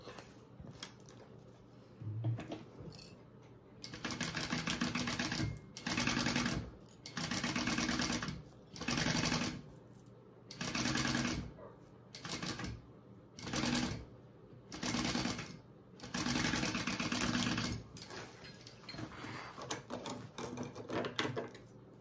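Sewing machine stitching in repeated bursts while basting a zipper onto bag lining, steady mechanical whirring runs starting and stopping about a dozen times, close and fairly loud, with no talk.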